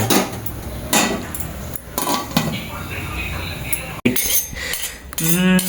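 Metal clattering and clinking as a lid is put on a pot of veg biryani, with repeated clanks and scrapes under people talking nearby.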